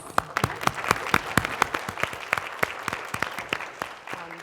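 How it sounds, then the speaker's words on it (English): A sparse round of applause from a small audience at a panel discussion on culture-based education, with distinct individual claps that are fairly close and moderately loud, tapering off near the end. "I just wanted to give our panel a wonderful and warm round of applause"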